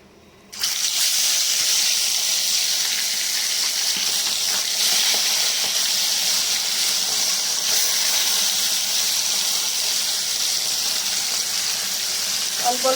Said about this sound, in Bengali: গরম হয়ে গেছে, তো মাছগুলোকে ভেজে নেবো।